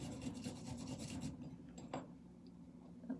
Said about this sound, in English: That's where I'm just gonna grind up my ginger.